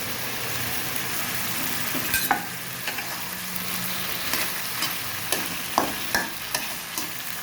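Potatoes and egg stir-fry in a pan, giving a continuous close sizzle and hiss with intermittent scrapes and taps of the spatula as the mixture is turned over.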